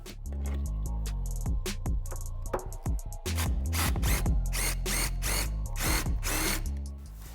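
A power tool drives fasteners home while a shock bracket goes back onto a 2015-2023 Mustang, with short bursts of whirring and ratcheting bursts separated by brief pauses and clicks.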